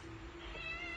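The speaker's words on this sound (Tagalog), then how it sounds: "Si pusa nakikimukbang." A cat lets out a single short, close meow during a mukbang eating session, with no one speaking.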